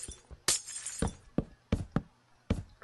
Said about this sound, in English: Hate destroying glass.